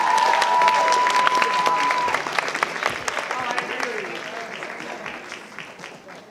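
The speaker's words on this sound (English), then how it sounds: "Let's give a round of applause to all the teachers who came out tonight to be here with us" A high school crowd at the Mr. FHS 2020 pageant applauds its teachers with a full, steady round of clapping that slowly thins out, a sustained tone ringing briefly near the start.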